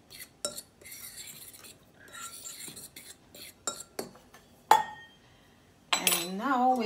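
Flour and baking soda stirred together in a bowl for vegan pizza dough, giving soft scraping clinks of a utensil against the bowl in irregular bursts, close and quiet, with a brief louder rustle near the end.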